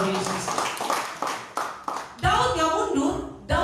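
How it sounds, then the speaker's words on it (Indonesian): A church congregation claps during a Sunday service, loose bursts of hand claps that swell into fuller clapping near the end, mixed with a preacher's voice. "Yang percaya kasih tepuk tangan yang meriah bagi Tuhan Yesus."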